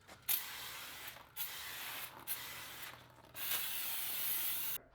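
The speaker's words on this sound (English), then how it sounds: "Is to clean your rotors from that shipping grease." Shipping grease is being cleaned off new brake rotors during a drum-to-disc conversion on a 1965-1966 Ford Mustang. Close, repeated rubbing and hissing spray-like bursts come in uneven strokes, with no talking.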